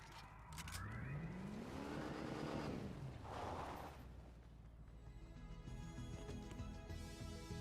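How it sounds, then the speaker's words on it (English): Car in the video game Fortnite driving past, engine noise rising and falling as it passes close, followed by a busy mix of game sounds. "Oh, somebody's got a car."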